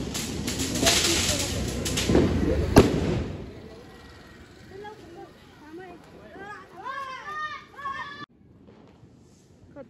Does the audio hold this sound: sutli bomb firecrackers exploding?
yes